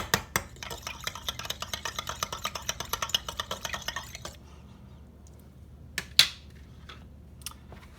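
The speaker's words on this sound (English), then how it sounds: "Again, stirring to combine." Flatbread batter of wet ingredients with yogurt being stirred in a bowl makes a rapid, rhythmic run of close utensil scrapes and taps for about four seconds, then a pause broken by a few isolated clinks.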